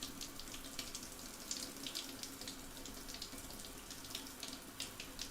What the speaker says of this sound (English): there's water coming out of it. I mean, the pressure's a bit crap.